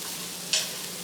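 Broccoli fries in a pan with a constant soft sizzle, broken midway by one quick scrape of stirring before the hiss settles again.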